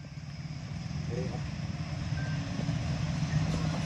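A police lorry advances with its reversing beeper chirping over a low, steady diesel rumble, the tones faint and repeated beneath a continuous engine drone outdoors.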